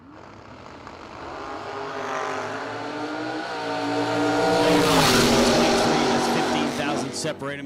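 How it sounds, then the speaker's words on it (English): Drag racing cars, including a black dragster, launch down the strip at a memorial race, engines roaring and rising to a loud peak mid-clip, heard at moderate distance. "She'll take on that black dragster in the left lane."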